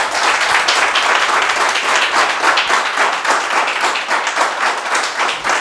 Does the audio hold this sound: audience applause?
yes